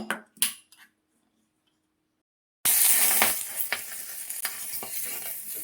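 Peppercorns sizzle and crackle in a little hot oil in a pan, a sudden steady frying hiss breaking in after a short quiet stretch, with occasional stirring clinks over it.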